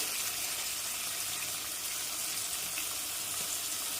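Chopped onion and tomato cook in a pan for hotel-style sambar, a steady, even hiss of sizzling that stays constant and fairly close throughout, with no voices.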